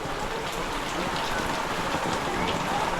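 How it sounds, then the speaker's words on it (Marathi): Unseasonal rain pours steadily at a wedding home in Kokan, a dense, even hiss of drops on surfaces that holds at a constant loudness throughout, with no clear voices. "पाऊस पडला आहे"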